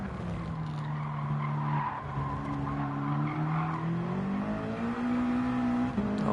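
A race car in a NASCAR racing video game at Road Atlanta spins its wheels, with steady tire squeal and a rising engine whine held loud and close for several seconds.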